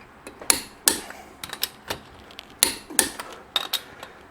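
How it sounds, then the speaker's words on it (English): Torque wrench tightening wheel bolts on a Chevrolet C6 Corvette in a crisscross pattern, giving a series of sharp metallic clicks and clunks in irregular bursts, close and fairly loud, with no talking. "We'll continue the righty-tighty action with our torque wrench."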